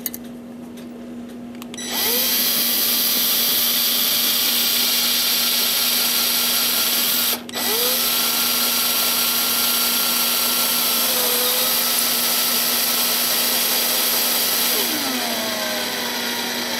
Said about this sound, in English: we're going to put that in our drilling to drill